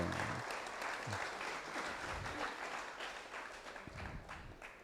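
Audience applause at an indigenous peoples and Amazonian communities assembly, approving a working group's conclusions: a steady, moderately distant wash of many hands clapping for about five seconds, with a few murmured voices underneath.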